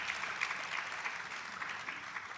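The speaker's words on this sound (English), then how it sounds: "Please give her another round of applause for that." Audience applause at an International Women's Day dialogue event, a steady wash of many hands clapping throughout, moderately loud and sustained with no talk over it.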